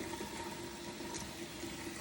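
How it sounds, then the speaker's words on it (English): Tap water running steadily into a cooking pot, a continuous even rushing hiss with no talk, close and moderately quiet throughout. "Waiting for the pot to fill with water."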